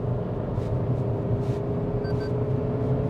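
A Maruti Suzuki Brezza 2022 petrol engine holds about 5000 RPM in third gear, a steady, loud drone with a deep rumble and an even cabin whir. It goes on without a break and no one speaks.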